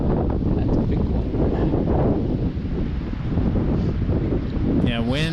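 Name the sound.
wind blowing outdoors while fishing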